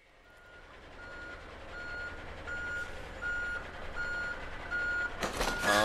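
Truck reversing alarm in the Saints Row video game, a steady series of regular beeps rising over engine rumble and game noise, ending in a louder burst of action.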